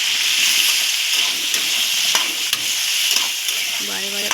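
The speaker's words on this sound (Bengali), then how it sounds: "আলু ফুলকপি ভাজা হয়ে গেছে, এর সঙ্গে একটু গাজরটা একটু সামান্য ভেজে নিচ্ছি" Potato, cauliflower and carrot sizzle loudly in hot oil, a dense continuous frying hiss with occasional stirring scrapes, close up and without talk.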